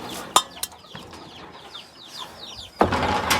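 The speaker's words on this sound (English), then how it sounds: "My daughter's silkies, I'm feeding them." Silkie chickens cluck and chirp softly while being fed, with a couple of sharp knocks early on and a louder rustling burst near the end.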